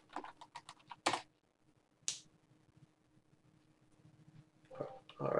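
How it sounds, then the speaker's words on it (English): Someone types on a computer keyboard: a quick cluster of close, crisp keystrokes, a pause with a single sharp click, then a few more taps in a quiet room. "Now as a visitor, I'm going to type in hello."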